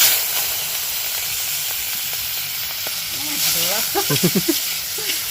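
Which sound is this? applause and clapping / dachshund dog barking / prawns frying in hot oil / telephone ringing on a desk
prawns frying in hot oil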